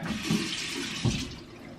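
Running water from a tap pours steadily onto hair brushes, a continuous close hiss and splash with no talk.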